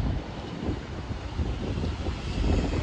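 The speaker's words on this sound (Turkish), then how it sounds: "Burada esiyor da." Wind blows outdoors in Mostar or Blagaj, Bosnia and Herzegovina, with steady low buffeting rumble across the microphone and no voices.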